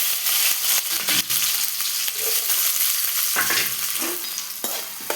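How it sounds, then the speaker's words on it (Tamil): Chopped onions and green chillies frying in a pan while being stirred, a constant loud sizzle with scraping strokes of a spoon breaking through it, close up and with no voices. "வெங்காயத்தை போட்டு கிளறணும்"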